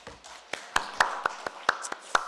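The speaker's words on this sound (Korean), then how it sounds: "우리 박수하겠습니다" A church congregation clapping during an Easter worship service: a few sharp, fairly close claps landing in an uneven rhythm, each one distinct against a quiet background.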